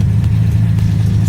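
A car fitted with a roll bar and fire extinguisher sits with its engine running before being put into gear, a close, steady low idle hum with no revving.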